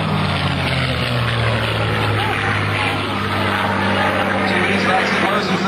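P-51D Mustang propeller fighter with a liquid-cooled engine flying at an airshow, a steady loud droning engine roar mixed with crowd and PA talk throughout.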